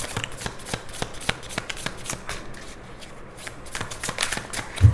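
Tarot cards are shuffled by hand for a reading, giving a rapid run of soft riffling flicks and slaps, close and fairly quiet, with no talk over them.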